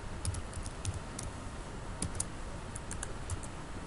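Fast, light keystrokes on a computer keyboard while code is entered, steady irregular clicking close to the microphone in a quiet room, with no voices.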